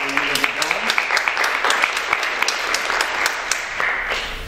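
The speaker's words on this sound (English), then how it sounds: "So let's give them a round of applause." An audience at a poetry recitation competition applauds steadily, dense claps filling the room throughout, with a brief voice audible near the start.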